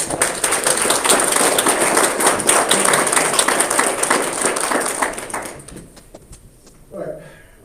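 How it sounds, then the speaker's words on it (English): Room of people applauding at a town board of commissioners work session, brisk dense clapping for several seconds that tapers off, followed by a brief voice as it ends. "let's give Tess a round of applause"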